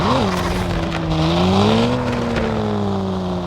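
A small car driving in the mobile game Car Parking Multiplayer, its engine droning steadily with a rising and easing pitch as it speeds up, loud and continuous with no talk.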